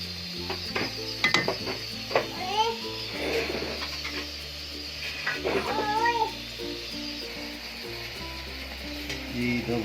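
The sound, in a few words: cooking orange juice and sugar in a pan for candy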